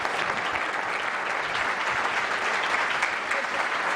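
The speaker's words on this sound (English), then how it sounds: "Another round of applause for Farhana" Warm applause fills a room at a Muslim Advocates dinner event: many hands clapping in a dense, steady patter for several seconds without letting up.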